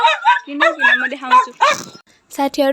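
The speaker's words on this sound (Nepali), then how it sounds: "पछाडि चाहिँ हाम्रो कुकुर चाहिँ एकदम भुकिरहेको छ" A dog barks and yips close by, its calls mixed in with a person talking over it.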